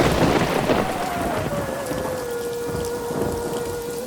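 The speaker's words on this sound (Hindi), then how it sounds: "शहरी जंगल पहुंचते ही टूनी चिड़िया भारी बारिश में फंस जाती है।" Heavy rain pours steadily in a Hindi cartoon as a small bird is caught in a city forest downpour, a dense continuous hiss with a faint tonal whistle gliding through it, loud and unbroken throughout.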